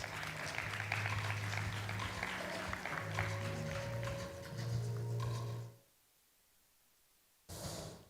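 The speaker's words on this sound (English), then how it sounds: "Please give a warm round of applause for Miss Alice." An audience applauds a speaker introduced at a Kenyan diplomatic dialogue event, a broad wash of clapping over a low hum that cuts out suddenly near the end and briefly returns.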